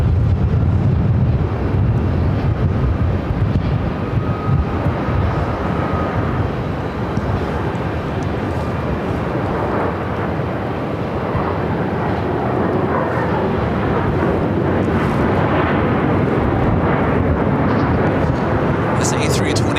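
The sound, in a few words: Airbus A321 airliner at Phoenix airport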